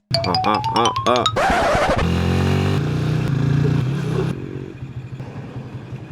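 A motorcycle starts with a loud rev and then pulls away close by, its engine note rising and settling before fading to a quieter idle-like rumble.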